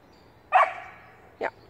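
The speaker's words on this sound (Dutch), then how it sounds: "En nog een keertje blaffen." A dog gives two short barks close by during an outdoor photo shoot, the first louder and drawn out, the second briefer a moment later.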